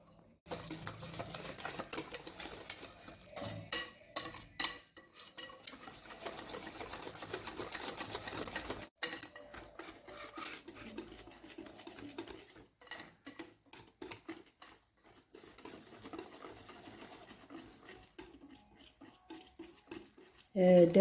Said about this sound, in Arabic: دابا حنا غادي نحرك حتى هو ندمجوا ليه العناصر كلهم